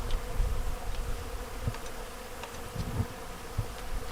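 Bees buzzing outdoors around pollen, a continuous insect hum at close range with faint bumps of handling noise and no voices.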